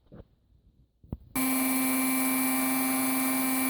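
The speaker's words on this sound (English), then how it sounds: "I don't know if you can hear me over the Dremel" A Dremel rotary tool starts up after a few light taps and runs at a steady high-pitched whine while sharpening bandsaw teeth, loud and close.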